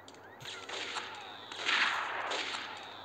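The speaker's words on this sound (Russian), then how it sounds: "И, видимо, услышали, как я выстрелил." A shotgun blast in Max Payne cracks out close and loud, followed by a rough, noisy wash that swells again before fading.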